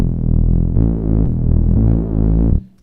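Fat Reese bass from Xfer Serum with unison pitch detuning engaged, a loud sustained low tone with thick harmonics and wobbling phasing, playing a few held notes before cutting off near the end.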